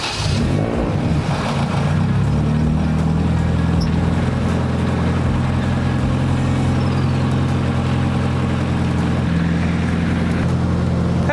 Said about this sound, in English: Let's go ahead and give her a little bit of a cold start.